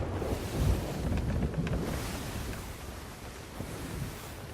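Ocean water and waves in the pirate game Sea of Thieves: a steady, full wash of surf and rolling swell with gusty wind noise, continuous and fairly loud throughout, no voices.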